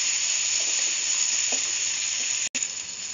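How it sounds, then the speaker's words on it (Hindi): Tomatoes sizzle steadily in a pan with capsicum and potato, a constant bright frying hiss with a few soft stirring scrapes and one abrupt break near the end. "अब इसमें मैं टमाटर डाल देती हूँ, इन सबको मैं अच्छी तरह से भून लूंगी"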